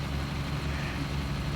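Truck rig engine idling in Hard Truck 2 with the Rig n Roll modpack, a steady, low rumbling drone with a dense throbbing low end, constant and unbroken, heard alone.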